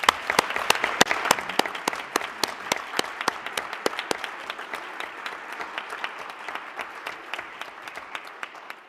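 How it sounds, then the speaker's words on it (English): Sustained audience applause at a town council meeting welcoming a high school varsity dance team, steady dense clapping with a few sharp nearby claps standing out, fading slightly toward the end. "Let's have a round of applause for them."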